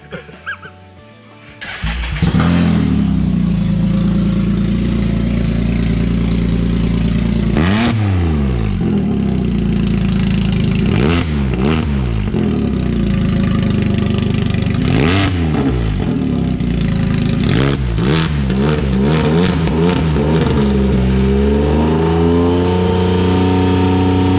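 A Can-Am Spyder with its muffler removed starts up with a loud, raw bark, then settles into a throaty idle punctuated by several sharp revving bursts, very close and dominant, with no speech over it.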